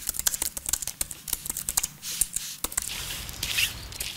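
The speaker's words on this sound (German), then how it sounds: "Den Klang meiner Computertastatur." Fingers typing on a computer keyboard, close and clear: quick irregular keystrokes clicking in bursts, then a brief pause and a softer, denser run of taps.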